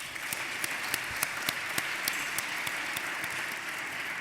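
An awards ceremony audience gives a round of applause, a dense, even patter of many hands with a few sharper individual claps standing out in a loose rhythm, moderately loud and steady.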